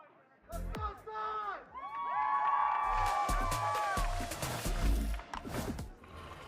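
A large esports arena crowd at a Valorant match (VCT Americas Kickoff, G2 vs 100 Thieves) cheers and roars loudly. The cheering swells and holds steady for several seconds, with whoops and shouts rising out of the din.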